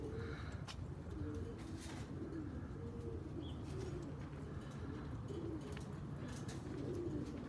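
Homing pigeons cooing at a homestead coop, soft repeated low coos in loose rhythm amid a faint, steady background, with a few light clicks and rustles.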